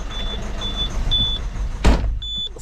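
A Citroën C4 engine idles with a steady low rumble, while short electronic warning chimes repeat in an even rhythm and one brief loud thump cuts in near the end.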